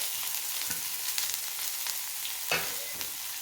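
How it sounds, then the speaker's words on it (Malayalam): Chopped onion and green chili mix sautés with mustard seeds in a pan over medium flame, a close, continuous crackling sizzle with faint stirring scrapes. "നമ്മൾ നേരത്തെ അരിഞ്ഞു വെച്ചിരിക്കുന്ന ആ സബോളയുടെയൊക്കെ മിക്സ് ഇതിലേക്ക് ഇട്ട് കൊടുക്കാം"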